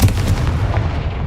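Confringo fire spell blast in the Hogwarts Legacy video game, a loud, sustained booming rumble that fills the whole short moment with no voice over it.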